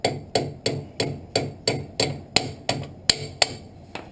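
Eleven sharp hammer strikes knock parts out of an old rail buggy during repair, spaced at an even, steady rhythm, close and loud with metallic ringing and no talk.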